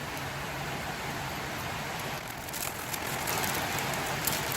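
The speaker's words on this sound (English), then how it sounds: "Absolutely hammering down with rain right now" Heavy rain pours down in a steady, dense hiss, hammering on surfaces nearby and swelling slightly toward the end, with no voices over it.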